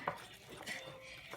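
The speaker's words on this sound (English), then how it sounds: "Maybe I should use the whisk." A whisk stirs cupcake batter in a bowl: a brief, soft scraping and swishing, quiet and close, with a light clink near the start and no talking.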